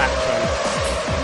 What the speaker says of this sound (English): The sound of the F1 engines